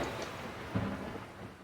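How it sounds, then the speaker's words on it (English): Thunder over a rough ocean during a storm in a Pokémon video: a low rumble with one brief heavier crack in the middle, all under a steady hiss of rain and wind, no talking. "Dark clouds covered the ocean sky, lightning pierced the heavens whilst the waves crashed in an unruly ocean."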